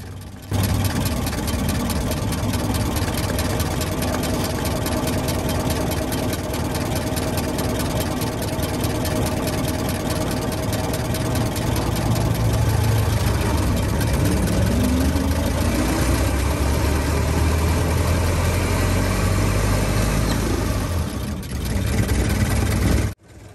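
A 1914 Ford Model T engine idles loudly and steadily for the whole stretch, its low, rough running rising and falling slightly as the hand throttle lever is moved, with no talk over it.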